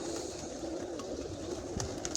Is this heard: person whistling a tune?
no